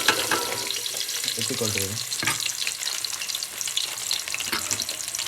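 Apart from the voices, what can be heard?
onions frying in oil and ghee with cumin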